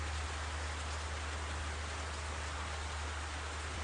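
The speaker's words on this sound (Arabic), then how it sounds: "المطر شديد" Heavy rain pours down in a night scene, a dense, continuous hiss with no breaks, steady throughout and without any voices.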